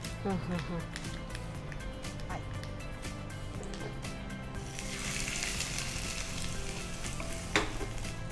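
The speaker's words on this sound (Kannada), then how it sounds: "ಇನ್ನು ಈ ಒಗ್ಗರಣೆ ಹಾಕಿದರೆ ಇದು ಆಯಿತು." Spices for a beetroot pachadi tempering sizzle in hot oil, the frying crackle swelling loud and hissy partway through while people talk over it.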